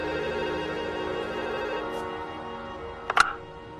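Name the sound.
telephone ringing after number is dialed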